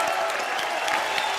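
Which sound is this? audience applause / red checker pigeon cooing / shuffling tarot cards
audience applause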